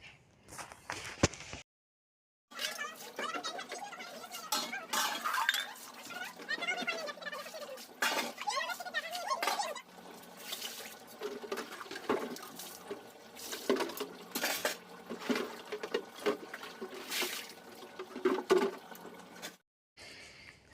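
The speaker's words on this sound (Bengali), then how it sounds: "তাই ভাবলাম বাসনটাও এক হাতে মেজে উঠবো" Dishes being washed by hand in a home kitchen: running water and splashing with soft clatter of utensils, continuous and close after a brief pause near the start.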